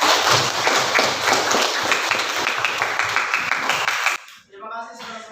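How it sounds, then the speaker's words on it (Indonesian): Audience of schoolchildren clapping in a school setting, dense rhythmic applause with audible individual claps for about four seconds, stopping abruptly before a voice begins speaking. "Tepuk tangan untuk kita semua."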